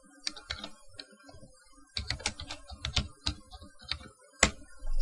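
Keys tapped on a computer keyboard while a password is entered on a profile page, with scattered clicks at first, then a denser run of quick taps and a few sharp single strokes, close and fairly quiet.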